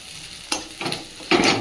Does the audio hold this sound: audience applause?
no